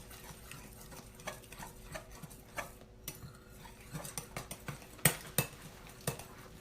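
Slime being stirred in a bowl as it clumps together, giving sparse wet clicks and squelchy taps at an uneven rhythm, with a few sharper, louder smacks near the end, close and otherwise quiet.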